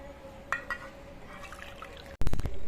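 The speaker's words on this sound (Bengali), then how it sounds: "এক বাটি দুধ প্রথমে দিচ্ছি" Milk poured from a bowl into semolina, flour and sugar for malpua batter, a few faint splashes followed by a louder, brief gurgling pour near the end.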